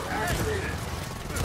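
Gears of War 4 gunfire comes as a steady, loud clatter of rapid shots in a chaotic co-op firefight, with voices talking over it.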